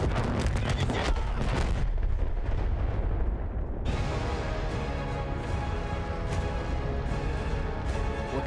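Battlefield 1 gunfire in the middle of a firefight, dense, loud and continuous, with heavy booming blasts and rapid shots layered over the constant battle roar, and someone talking faintly beneath it.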